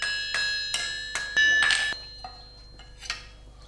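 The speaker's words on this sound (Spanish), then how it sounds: "Golpeando uno con el martillo pequeño y otro con el mallo, el hierro del barrón se va estirando." Two blacksmiths forge iron bar on an anvil, alternating a small hammer and a sledge: sharp ringing metallic strikes at an uneven rhythm, several loud and close, each leaving a bright decaying ring.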